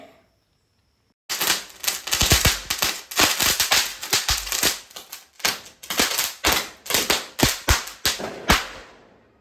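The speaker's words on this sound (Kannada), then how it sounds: "ಎಲ್ಲ ಪಟಾಕಿ ಹೊಡಿತಾ ಇದ್ದಾನೆ ಈಗ" A long string of sharp Diwali firecracker bangs goes off in rapid, uneven succession, loud and close, after a brief quiet start.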